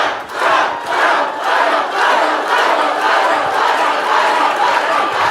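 A large crowd at a political summit rally cheers and shouts loudly and continuously, a dense, steady roar of many voices with no pause.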